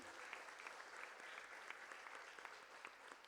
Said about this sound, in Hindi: एक बार दादा के लिए ज़ोरदार तालियां हो जाए।